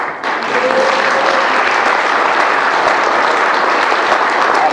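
Sustained, loud audience applause for a cannabis investor panel at a conference, dense continuous clapping with no talk over it.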